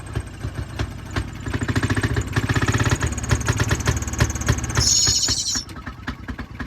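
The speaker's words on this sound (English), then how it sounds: "if I had the mixture too rich, like so, you'll notice a lot of smoke, and the throttle response is not as good" Fairmont pop car, a small railway motor car, with its engine running on too rich a fuel mixture: a rough, uneven chugging idle close by, ending with a short hissing burst.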